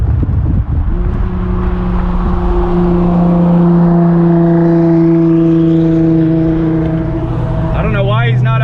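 A loud engine drones close by with a rising whine, building as a vehicle approaches and passes, ending in a wavering high-pitched rev.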